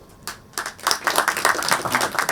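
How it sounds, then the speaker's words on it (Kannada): An audience at a film trailer launch event claps in a rising burst of scattered, then dense applause that keeps going, fairly close and lively. "ಚಪ್ಪಾಳೆ, ನಾನು ಎಲ್ಲ ಟೈಮು ಹೇಳಲ್ಲ ಚಪ್ಪಾಳೆ ಹೊಡಿರಿ ಅಂತ ಹೇಳಿ"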